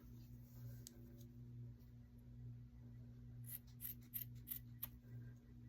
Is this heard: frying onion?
no